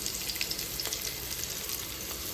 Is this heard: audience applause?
no